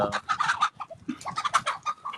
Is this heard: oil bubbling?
no